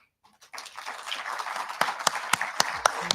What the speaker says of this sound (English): they could give you a big round of claps